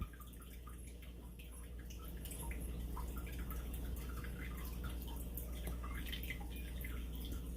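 Water running in a home aquarium, a soft continuous trickle with scattered drips and bubbling over a low steady hum, faint and close, with no voices.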